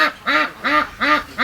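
A young rescued duck quacks four times in an even, steady rhythm, each call short, nasal and close, with brief pauses between them.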